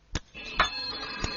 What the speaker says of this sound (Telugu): గీతకా, నీకే ఫోన్.